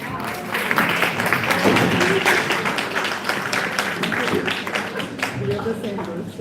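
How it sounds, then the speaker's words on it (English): Audience applause closing a funding-in-Africa session at a media lab evening event: dense, sustained clapping from a crowd, steady for several seconds with some voices mixed in. "Please give them a huge round of applause."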